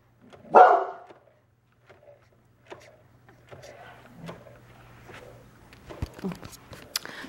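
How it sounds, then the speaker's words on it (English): A dog barks once, loud and sharp, at a home around lunchtime. Fainter thumps and small household noises follow in the quiet. "I don't know what she's barking at"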